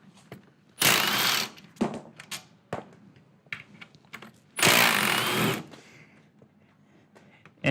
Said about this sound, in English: we're gonna go ahead and remove our 13mm bolts on each side